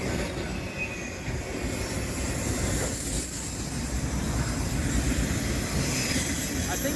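A fast CSX autorack freight train rolls past on the Pittsburgh Subdivision, a steady rumbling clatter of wheels with faint squeal, continuous and moderately close, a voice faintly in the background.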